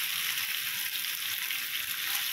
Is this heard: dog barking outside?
no